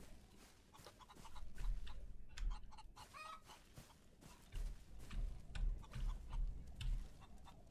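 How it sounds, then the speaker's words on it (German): Chickens in the video game Outlaws of the Old West cluck and squawk near a farm coop, in repeated short bursts over a low background, fairly quiet. "da sind jetzt wieder zwei Hühner gekommen"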